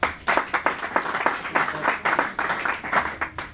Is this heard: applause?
yes